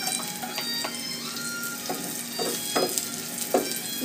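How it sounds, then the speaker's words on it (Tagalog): Onions sautéing in a pan for stir-fried chicken liver with vegetables, a soft steady sizzle with occasional light stirring scrapes and taps, fairly quiet and close, no voices. "Gisa-gisa lang."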